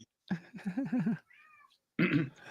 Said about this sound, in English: Oh, you hear the cat?